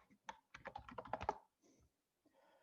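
Quick burst of keystrokes on a computer keyboard, a rapid cluster of light, close clicks, then a pause and a few faint taps in a quiet room.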